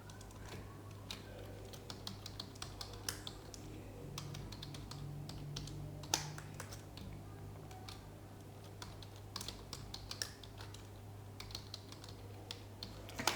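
Steady typing on a computer keyboard while writing a C program, with quick irregular keystrokes and occasional louder key presses, close-up over a low background hum.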